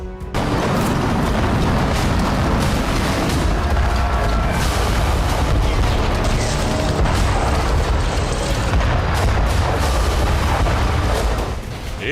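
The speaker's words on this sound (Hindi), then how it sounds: "इजराइल के इलाके में आसमान में धमाके हो रहे थे" Loud, continuous rumbling booms and blasts fill the air over Israeli territory during the Israel–Hezbollah war, dense and sustained with no pauses or voices.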